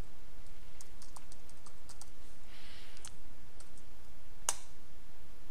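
Steady clicking of keys as text is typed on a computer keyboard while working in ZWCAD software, a run of close, light taps with one sharper click near the end.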